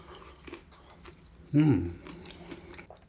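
Crispy air-fried Taiwanese popcorn chicken seasoned with five-spice being bitten and chewed, one loud close crunchy bite around the middle with softer chewing noises before and after.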